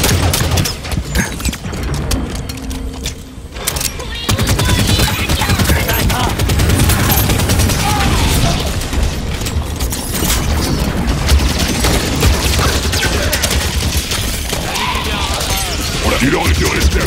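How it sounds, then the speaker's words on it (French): Grenade thrown and detonating in the middle of a dense Halo 5 firefight, loud sustained bursts of gunfire and crashing impacts filling the scene, with a brief lull before the barrage resumes and continues unbroken. "J'envoie une grenade."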